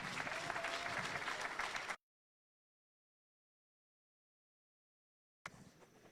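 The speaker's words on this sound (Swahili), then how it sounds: "Pigeni makofi governor." An audience applauding the governor at a Nairobi county security forum, a loud burst of crowd clapping that cuts to silence and resumes more faintly at the end.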